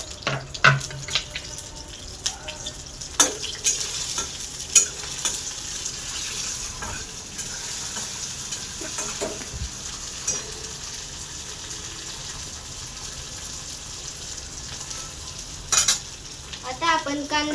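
Curry leaves crackle and sizzle in hot oil while a spoon stirs and scrapes the pan, a steady frying hiss punctuated by sharp clinks and pops, with no voices.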